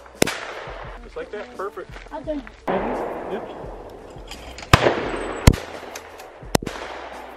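Gunshots from a new gun at a mountain shooting station, several sharp, loud cracks spaced seconds apart, with people talking nearby between the shots.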